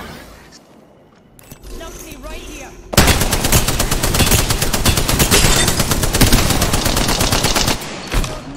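Sustained automatic gunfire in the game Apex Legends, starting after a quieter lead-in and hammering on loud and steady for several seconds before cutting off.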